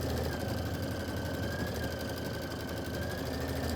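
A Kimberbell embroidery machine stitches out a quilt block with a steady, continuous mechanical whir and a faint rapid needle chatter, close by and unbroken, with no voices.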